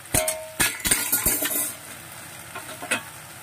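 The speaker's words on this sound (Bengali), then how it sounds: "এরপর আমি মাছগুলোকে ওপর থেকে দিয়ে দেব।" Mourala fish go into a pan of frying spice paste with a few sharp clatters and utensil clinks, followed by a steady sizzle and stirring scrapes, fairly quiet and close.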